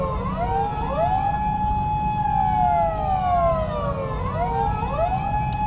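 Police car sirens wail and warble together at Daikoku parking area in Japan as officers clear the cars out, several overlapping rising and falling tones at moderate distance over a low traffic rumble.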